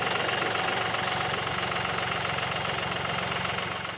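A John Deere tractor engine idles on a Texas hay farm, a close, steady low rumble with a throbbing beat that runs unbroken and eases off slightly at the end.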